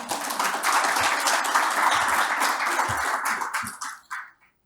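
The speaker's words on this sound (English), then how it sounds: "we might get a round of applause from him" Audience applause at the closing and awards session of the ACM Multimedia Systems conference, moderate clapping that runs for about four seconds, then tapers off into a few last scattered claps.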